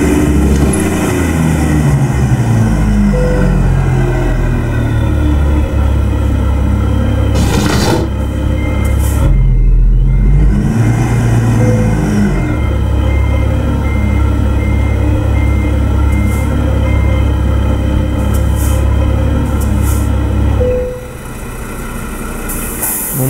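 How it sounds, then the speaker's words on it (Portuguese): A Ford Cargo truck's engine in Euro Truck Simulator 2, rumbling low and steady at night while the truck maneuvers to park at a small fuel station, with a brief dip in the drone midway and a drop near the end. "e vamos estacionar o caminhão lá daquele lado"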